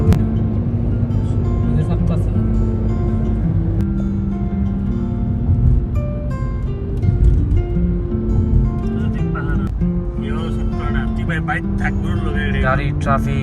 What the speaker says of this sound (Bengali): ট্রাফিকে টানাই যাচ্ছে না।